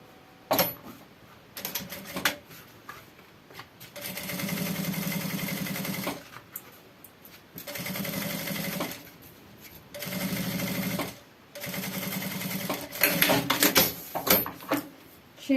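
A sewing machine topstitches a finishing seam on a backpack pocket, running in several sustained bursts of steady whirring stitching separated by short pauses, close and moderately loud, without speech.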